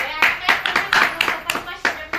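A small child claps hands in a quick, uneven run of about eight claps, close and fairly loud, with faint talk around them.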